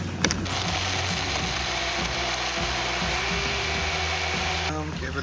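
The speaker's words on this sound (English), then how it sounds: "we're gonna hit the blender" A blender mixes a frozen rum cocktail of light and spiced rum with ice, a loud steady whir with grinding and rattling, starting abruptly and cutting off near the end.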